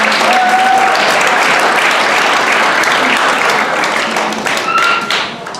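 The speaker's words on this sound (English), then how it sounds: "Give her a round of applause." Loud, close applause from a high school audience at a civic engagement forum, many hands clapping steadily with a few brief whistles and thumps, thinning out near the end.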